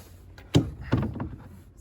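A Discovery 55 sailing boat, Sea Crusader, nudges against a pontoon in two soft, dull hollow bumps about half a second apart, with faint creaks trailing after in an otherwise quiet setting.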